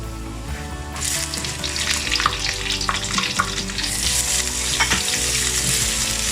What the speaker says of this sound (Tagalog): Then, lagay na natin yung ating sibuyas.